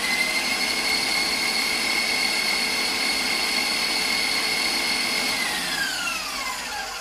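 A KitchenAid stand mixer runs steadily at close range, giving a constant high whine and motor hum that shifts slightly in pitch near the end, with no talking.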